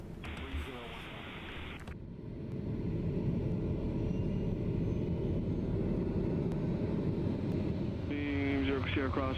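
Steady turboprop drone of a TBM 930 taxiing in Microsoft Flight Simulator 2020, a broad continuous rumble that swells after the first couple of seconds and holds loud throughout, with radio-style voices talking over it at the start and end.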